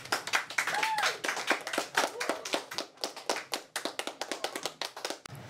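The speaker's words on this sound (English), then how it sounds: "a round of applause for all of our students of the week." A small group claps for the students of the week at a school announcement, irregular close hand claps that thin out into scattered individual claps over several seconds, with no talking.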